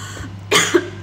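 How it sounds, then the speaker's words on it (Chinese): A man coughs in two short, harsh bursts indoors, close by and with no talk over it. "他有点咳嗽"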